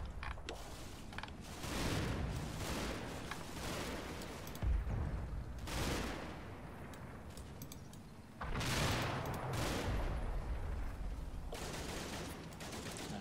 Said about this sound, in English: A bit of fire going into that Bren team again